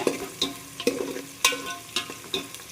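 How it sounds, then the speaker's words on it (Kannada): Sliced onion with cinnamon, cloves and cardamom roasting in a pan for pulao, a steady low sizzle broken by about six sharp scraping stirs of a spoon, close and moderately quiet with no talking. "ಇನ್ನು ಚೆನ್ನಾಗಿ ರೋಸ್ಟ್ ಮಾಡ್ಕೊಬೇಕು ಫಸ್ಟು ಕೆಂಪಗೆ ಚೆನ್ನಾಗಿ ರೋಸ್ಟ್ ಮಾಡಿಕೊಂಡು"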